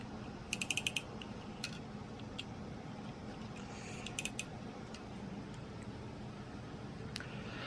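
Ratcheting clicks while tightening a fitting on a DIY leak detection actuator valve, two short bursts of rapid metallic clicks plus a few isolated ticks over a steady low background hum.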